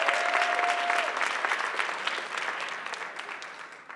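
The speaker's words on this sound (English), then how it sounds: "please join me giving one more time a round of applause to all the contestants" Audience applause for the contestants of a neuroscience competition at a festival event, a dense steady clapping that fills the room and slowly fades over four seconds.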